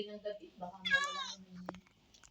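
A cat meows once in a Minecraft game, a short rising harmonic call from the in-game animal, heard over a steady low background hum while a person talks around it.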